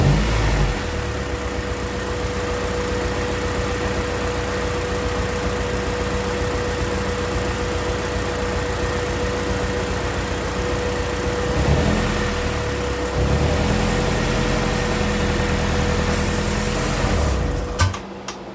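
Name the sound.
engine running and idling after compression repair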